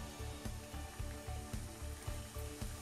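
Oil sizzles steadily as maida biscuits (shankarpali) fry on a low flame, with a rhythmic mechanical clicking pulsing underneath; no voices.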